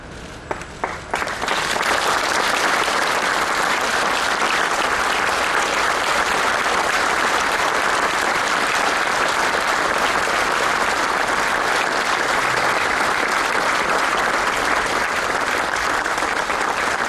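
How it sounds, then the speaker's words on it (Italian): Sustained crowd applause outside a family home on via Piave in Cosenza as a coffin is carried out, dense and steady after a brief ragged start, continuing loudly throughout. "Applauso accompagna l'uscita del feretro dalla casa che l'ha vista crescere in via Piave a Cosenza."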